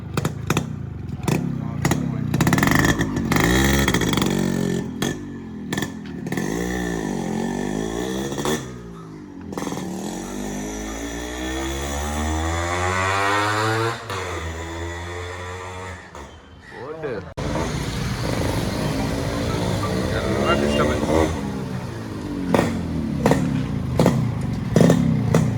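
A Yamaha RX 135 two-stroke motorcycle being ridden, its engine revving up and down through repeated accelerations with rattling clatter, loud and close under ongoing talk.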